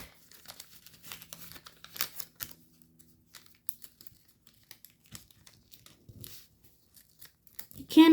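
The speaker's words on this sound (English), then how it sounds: "So fold it in half." Close, crisp paper crinkles and creases come in scattered short bursts as a sheet is folded for an origami fighter jet, quiet gaps between them and a voice entering at the very end.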